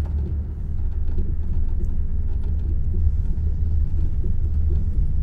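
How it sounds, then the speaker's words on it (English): A Scania S730 2017 truck in Euro Truck Simulator 2 drives over a rough road surface, giving a steady, heavy low rumble with constant jostling texture and no speech. "I don't know why this road's so rough."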